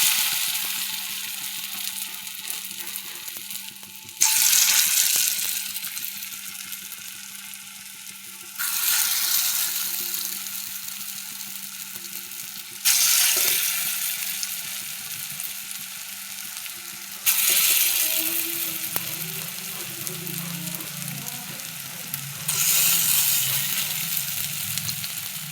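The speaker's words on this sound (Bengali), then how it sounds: "তেল গরম হয়ে গেছে, এবার ভেজে নেব।" Food fries in hot oil, a loud crackling sizzle that surges each time new pieces are dropped in, five bursts spaced a few seconds apart, each easing off before the next.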